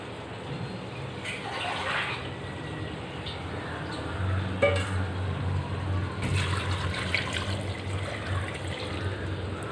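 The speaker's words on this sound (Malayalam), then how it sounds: "കപ്പയുടെ നെകയ്ക്ക് നമുക്ക് വെള്ളം ഒഴിച്ചു കൊടുക്കാം" Water is poured from above onto cut tapioca in a pressure cooker, a continuous gushing splash running steadily at moderate loudness, close by.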